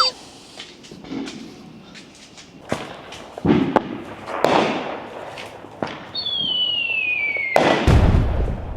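New Year's fireworks bang repeatedly at close range in the Philippines, sharp irregular pops and booms mixed with a whistling rocket and people talking and cheering in the background.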